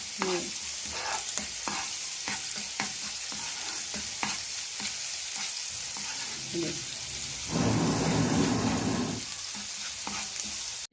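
Garlic sizzles and crackles in hot oil while a utensil stirs and scrapes the pan, close up, with a louder burst of frying partway through.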